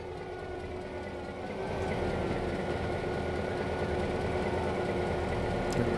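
A freight train runs in the Trainz railway simulator, a steady rumbling rail drone with a faint sustained tone. It swells slightly louder partway through and carries on without talk.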